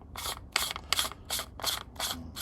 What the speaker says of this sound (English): there's a little bit of raggle before, but but that's only because the pommel's not in place.